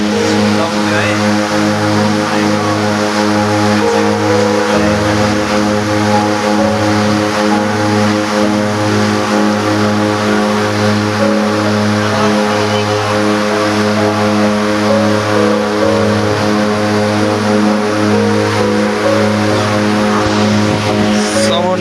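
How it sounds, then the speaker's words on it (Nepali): A seaplane's propeller engine roars loudly and steadily as it takes off from water in the Maldives, a droning hum with strong low harmonics that holds throughout. "छोडेर पनि उडिसक्यो गाइज यति कराइरहेछ नि प्लेन"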